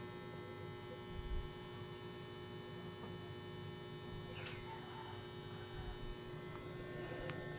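A household electric fan runs steadily in a hot room, giving a low, even mains-like hum with a faint buzz that holds throughout, fairly quiet and with no talking.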